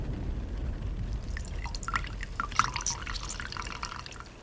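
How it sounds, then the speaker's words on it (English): Water dripping and trickling from a wet cloth indoors in a bedroom, a quiet scatter of small irregular drops and splashes over a soft background hiss. "This, it is a wet cloth."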